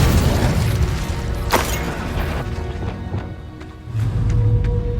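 Booming magical blasts and crashing impacts from the Incendio fire spell burst out in Hogwarts Legacy gameplay, with a sharp hit near the start amid rumbling low-end noise and no speech.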